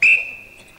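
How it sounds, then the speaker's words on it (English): A single sharp, shrill whistle blast, loud and close, fading quickly into a thin lingering tone. "And I've got me whistle with me this week, all ready to blow."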